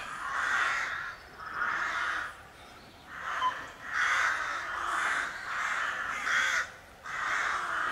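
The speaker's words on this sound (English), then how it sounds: "The crows are obviously in residence" Crows caw over and over in a steady, fairly close series of harsh calls, about one each second, with a quiet outdoor hush behind them.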